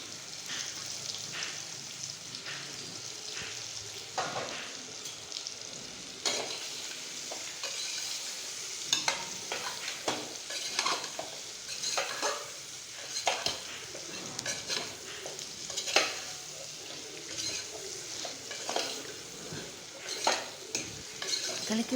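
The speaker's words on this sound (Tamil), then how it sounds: "வெட்டி வச்ச பாவக்காய் எடுத்து போட்டுருங்க. போட்டு நல்லா கலந்து விடுங்க." Sliced bitter gourd frying in oil in a pan while being stirred, with continuous sizzling broken by repeated scrapes and clinks of a utensil, close and clear with no talk.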